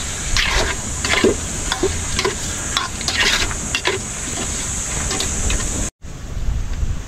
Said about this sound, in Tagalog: Tapos gigisa lang natin to.